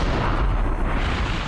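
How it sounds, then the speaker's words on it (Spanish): Bomb explosion at the Oklahoma City building, a dense, sustained low roar with no clear onset and no speech over it. "la explosión de la bomba"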